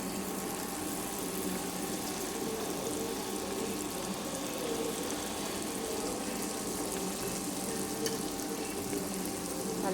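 Idli batter snack frying in a pan of hot oil, a steady dense sizzle and bubbling that holds constant throughout, close and fairly loud with no talking.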